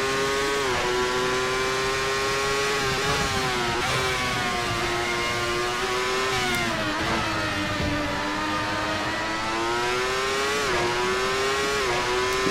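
The engine of a 1995 Ferrari 412 T2 Formula One car in the Assetto Corsa racing game wails at high pitch, climbing and dropping through repeated gear changes and throttle lifts, loud and constant with no speech.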